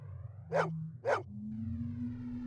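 A dog in the Blade Runner Enhanced Edition video game gives two short, sharp barks about half a second apart, clear over a steady low in-game hum.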